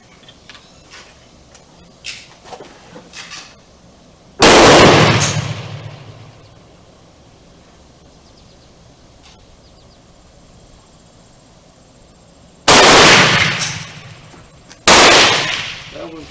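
Three loud, close gunshots from an 1867 Swedish Remington rolling block rifle firing reloaded cartridges at a shooting range. Each sharp blast fades in a long echo, with quiet handling noises between the shots.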